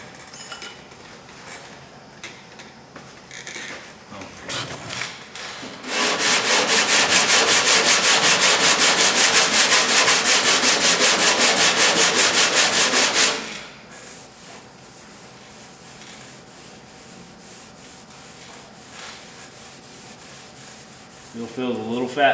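Loud, steady rasping of sandpaper worked briskly over metal during metalwork and heat shrinking, running for about seven seconds between quieter stretches of workshop background.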